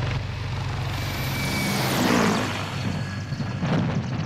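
A Mi-35P attack helicopter flying at extremely low altitude, hugging the terrain: a continuous broadband engine and rotor roar that swells as it passes close, then eases slightly, with no voices.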